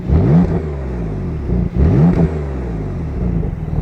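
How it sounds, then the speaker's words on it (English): A Porsche 992 911 flat-six engine revving with the exhaust valves closed, two loud rising blips that fall back to a muffled idle between them, close and alone. "So Joe, give us some revs with the valves closed"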